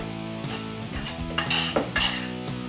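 Onions go into a pan with pinto beans, a short run of close metal clinks and scraping of a utensil against the pan, a few distinct knocks over a couple of seconds.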